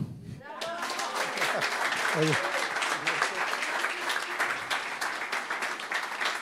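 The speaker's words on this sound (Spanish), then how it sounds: "Y para eso otro aplauso." An audience at a Latin American fisheries and aquaculture sustainability summit breaks into applause, clapping building quickly and continuing steadily while a voice briefly sounds over the start.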